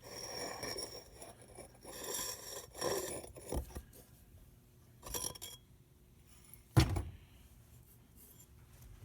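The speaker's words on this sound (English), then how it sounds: "See if we can get this, wrestle this out with one hand." Metal front axle being worked and scraped out of a Honda ATC three-wheeler front wheel hub, giving intermittent scraping, rubbing and clinking bursts with a sharp knock near the end, close by and without talk.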